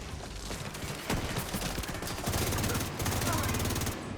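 Rapid video game gunfire rattles in dense, continuous bursts during a mission in Rise Up Season, with overlapping shots and impacts filling the scene and a voice speaking faintly underneath.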